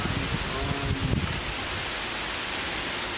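Wind buffeting a microphone outdoors, a steady loud broadband roar with low rumbling gusts, briefly stronger near the start, no voices.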